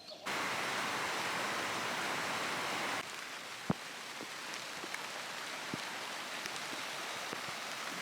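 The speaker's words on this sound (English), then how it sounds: "So it got suddenly quite rainy" Sudden heavy rain hisses steadily, then softens into a lighter patter with scattered sharp drops striking a surface nearby.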